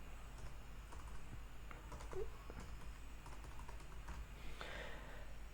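A website title is typed on a computer keyboard, quick irregular key clicks going on steadily at close range against a low background hum, with no one talking.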